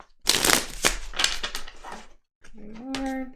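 Tarot cards being shuffled in crisp, crackling rustles for about two seconds, then a brief pause and a short voiced sound close by.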